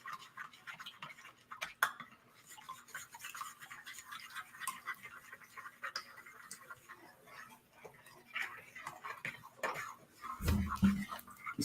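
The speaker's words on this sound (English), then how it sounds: "Just keep stirring." Chopsticks stir a peanut butter pie mixture in a bowl, giving faint, rapid ticking and scraping taps that run continuously and quietly, with a louder knock near the end.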